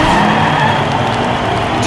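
A race car skids and slides off the track in a model car race, a loud, continuous close roar of engine and tyre noise with no pause across the short moment.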